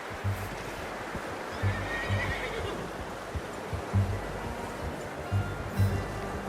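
A horse whinnies repeatedly in short bursts in Red Dead Redemption 2, over a steady low rumble, with hoof clops mixed in, fairly close and moderately loud.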